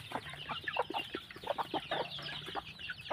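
Chickens cluck and peck busily while being fed pellets and bran, a close cluster of short overlapping clucks and chirps from several birds over a steady outdoor background.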